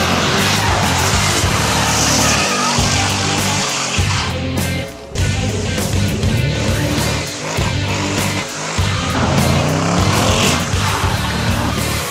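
A loud Jaguar XFR engine roars continuously with traction control off, surging and dropping with brief lulls, with faint tire noise suggesting hard, sliding driving.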